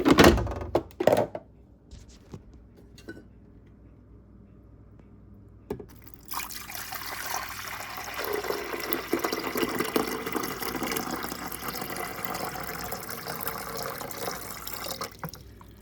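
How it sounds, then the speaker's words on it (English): Water is poured into the reservoir of a Joy Pebble countertop ice maker, a steady splashing trickle lasting about ten seconds after a few brief knocks and a quiet pause. "So I'm gonna go ahead and pour some water in."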